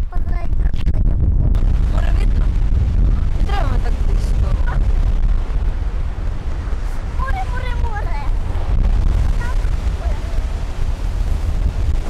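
Loud, steady wind buffeting the microphone on the Azov Sea coast in cold May weather, a constant low roar with faint higher sounds poking through now and then.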